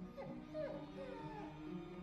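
Faint, muffled whimpers and thin yips come from a dog shut behind a door, a few rising and falling cries heard over low background noise.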